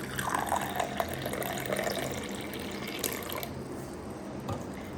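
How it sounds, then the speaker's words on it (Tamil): Lukewarm water pours into a glass holding a tablespoon of apple cider vinegar, a steady close splashing trickle that runs for a few seconds and thins out toward the end. "1 table spoon apple cider vinegar ஊற்றி அதில் வந்து கொஞ்சமாக வெதுன்னு தண்ணியை ஊற்றி"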